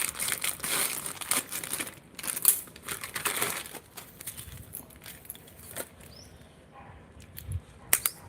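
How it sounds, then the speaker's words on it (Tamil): Black plastic-coated wire being cut for weaving a basket gives a few sharp snips and crinkly rustles, close and fairly quiet, spaced irregularly with pauses between. "இப்போ இன்னொரு புதுசாக ஒரு பிளாக் கலர் ஒயரை வந்து நான் கட் பண்ணிக்கிறேன்"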